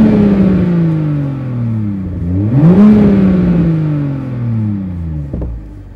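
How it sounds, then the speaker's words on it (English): A 2021 Toyota Supra engine in sport mode revs up and down loudly and close, its pitch swooping higher then settling back to a steady drone. "and then the engine just a little bit louder."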